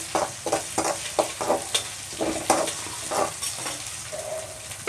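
Ginger garlic paste sizzles and fries in a pan for a village-style drumstick leaf and egg palya. A spoon scrapes and stirs it in repeated short strokes, fairly close and moderately quiet, with no voices.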